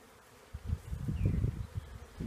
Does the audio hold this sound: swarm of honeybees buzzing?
yes